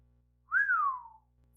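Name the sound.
narrator imitating a whistle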